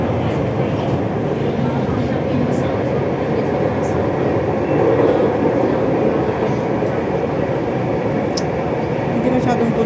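A train rides toward Shatin station, and the carriage gives off a continuous loud rumble with rolling track noise and faint rattles. The sound holds steady throughout.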